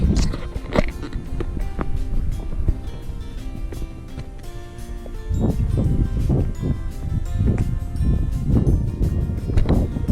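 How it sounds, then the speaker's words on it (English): Wind gusts across an exposed mountain top on a hiking trail, roaring steadily into the microphone with rumbling buffets that strengthen partway through. "Yeah, much windier up here."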